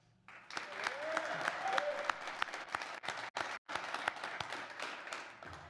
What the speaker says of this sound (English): I would like you guys to give a round of applause to all your friends and family and loved ones who joined us today